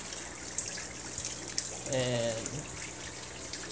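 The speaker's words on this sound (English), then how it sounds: "it pumps water into a hang-on-back filter. And then that overflow comes down to the other hang-on-back filter." Aquarium pump pouring water into a hang-on-back filter on a small fish-room sump, a steady close trickle and splash running throughout, with someone speaking briefly over it.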